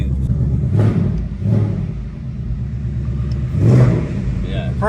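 A 2024 Mustang S650 RTR performance pack exhaust rumbles low and deep with a few swelling revs, heard from nearby with people talking over it.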